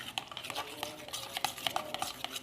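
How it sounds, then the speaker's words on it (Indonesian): A spoon stirs grill sauce mixed with sweet soy sauce in a bowl, giving light metallic clinks and scrapes in a quick, uneven rhythm, close up and alone. "Kemudian diaduk sampai merata."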